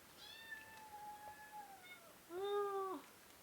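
A kitten meows nearby in a quiet indoor room, a short drawn-out cry followed by a louder, brighter second meow.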